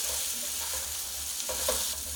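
Baby potatoes frying in a pan are stirred, a steady close sizzle with soft scraping strokes that swell briefly near the end, with no talking.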